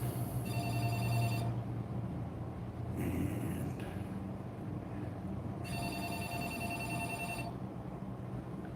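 A telephone rings in two long electronic trills separated by a pause, heard over a steady mechanical background hum, with a brief word spoken.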